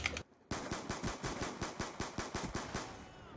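Rapid pistol fire in the shooter Black Ops II: a short shot, a pause, then a quick steady string of about fourteen loud shots.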